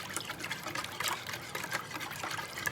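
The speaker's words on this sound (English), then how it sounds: "And you want to whisk this up till it's smooth." A mixture for a chicken dumpling casserole is whisked in a bowl, giving a steady wet, sloshing patter with quick repeated strokes close by, without pause.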